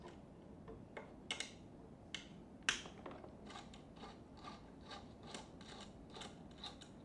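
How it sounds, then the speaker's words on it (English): Bolts are unscrewed from the stepper motor block of a Ratrig V-Minion 3D printer kit, giving faint, close metallic ticks and light ratcheting clicks. A few sharper snaps stand out early, followed by a softer run of rhythmic clicking. "Unscrew these 3 bolts that are holding this stepper motor block in place."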